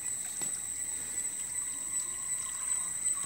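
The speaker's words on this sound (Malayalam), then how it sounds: "വെള്ളം നിറഞ്ഞു വന്നുകൊണ്ടിരിക്കുകയാണ് മുകളിലോട്ട് പൊങ്ങി പൊങ്ങിക്കൊണ്ടിരിക്കുകയാണ്" Water rises and fills an aquaponics tank fitted with an external bell siphon, a faint steady trickle and gurgle with a soft splash early on, no voices.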